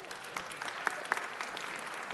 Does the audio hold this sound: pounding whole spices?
no